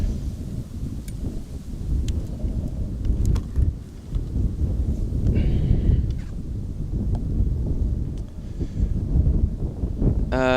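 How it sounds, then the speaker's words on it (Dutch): Strong gusting wind batters an outdoor microphone at Amsterdam Schiphol Airport, with loud, continuous low-frequency buffeting and rumbling surges that rise and fall. "oh my god, this wind."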